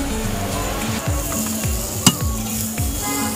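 Tomatoes frying in a pan with masala for kulcha at a Jammu food stall, a steady close sizzle with stirring scrapes and a sharp metallic clink midway.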